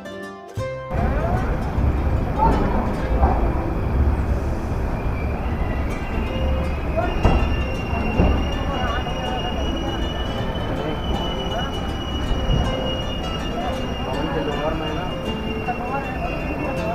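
A passenger train pulls into Katra railway station, a continuous loud rumble of carriages with a high, sustained wheel squeal running over it throughout.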